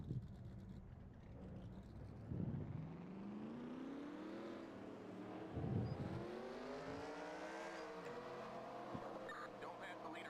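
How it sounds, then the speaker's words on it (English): Race car engines in the NASCAR Racing 2003 video game start up and settle into a droning, rising idle, with a couple of revving bursts; the sound is fairly faint and continuous. "Drivers, start your engines."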